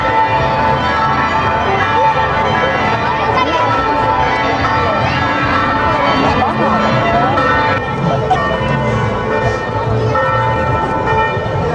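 Church bells in Guatemala ring loudly and continuously, their overlapping peals filling the air above a murmur of crowd chatter.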